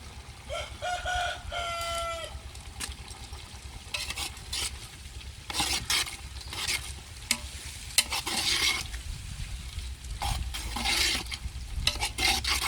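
A keema mixture being stirred and cooked soft in a pan with a little turmeric, giving steady sizzling with repeated scraping stirs close by and no talk.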